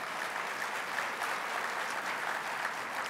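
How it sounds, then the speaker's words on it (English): A large crowd of about 1,465 applauds at a city's annual state-of-the-city address, steady dense clapping heard from some distance, fairly soft and even throughout. "Give yourself a round of applause for that."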